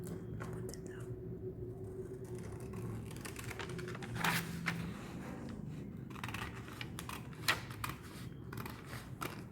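Scissors snip through paper while a saree blouse pattern is trimmed at the armhole, giving soft irregular clicks and crisp cuts over a quiet room, with a couple of sharper snips standing out.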